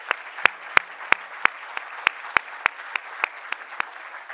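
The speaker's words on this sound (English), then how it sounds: "Please give our speakers another round of applause." An audience at the 2016 Boston University Athletics Leadership Celebration applauds with sharp, distinct claps in a fairly sparse, uneven rhythm over a low background hum.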